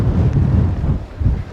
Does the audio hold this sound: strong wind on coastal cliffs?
yes